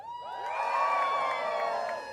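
An audience at a drag show during an outdoor Pride concert in Malta whoops and cheers in one sustained burst of high, shrill voices that swells and holds for about two seconds.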